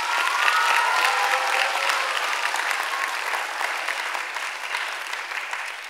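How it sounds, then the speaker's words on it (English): Audience at a 2017 elementary school awards ceremony applauds, a dense, steady round of clapping that starts full and slowly tapers off over about six seconds, with no talk over it. "a round of applause"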